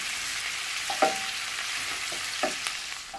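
Onion softening in a frying pan while pasta water boils nearby gives a steady, fairly quiet broadband sizzle, broken by a few soft clicks of stirring.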